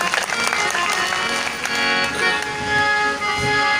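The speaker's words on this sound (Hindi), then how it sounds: "एक बार आप लोग अपने लिए जोरदार तालियां बजा लीजिए" Audience at a Buddhist religious talk clapping loudly, a dense, continuous wash of applause lasting the whole stretch.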